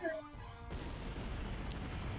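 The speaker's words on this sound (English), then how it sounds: "I hear a distant explosion and the ground shakes subtly." A distant explosion in the visual novel game Code: Realize ~Guardian of Rebirth~, a faint pop followed by a sustained low rumble rolling on for about a second and a half, with no talk.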